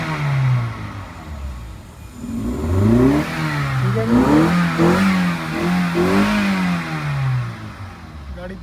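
A 2009 Toyota Corolla engine, recently repaired but still slightly misfiring, revs up and down several times in close, loud, rising-and-falling surges, with a brief spoken word in between.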